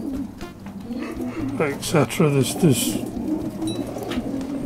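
Soft pigeon coos rise and fall in a short series, with someone talking over them close by.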